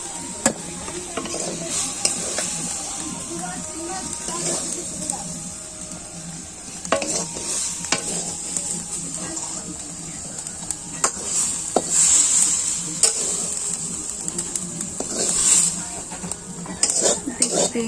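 Mixed leafy greens, including kalmi and note shak, fry in a pan and are stirred often. A soft, constant sizzle sits under repeated close scrapes and clinks of a metal utensil against the pan.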